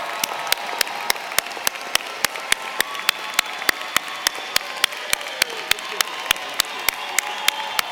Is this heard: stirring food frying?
no